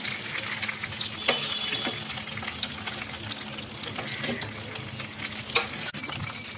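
Potol (pointed gourd) frying in hot oil, a steady close sizzle with stirring scrapes and a few sharper clatters of a utensil against the pan, no voices.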